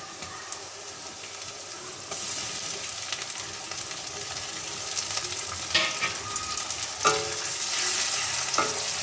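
Chopped tomatoes get stirred into fried onions in a hot pan, a continuous close sizzle underneath occasional scraping strokes of a spoon that grow a bit louder toward the end, with no voices.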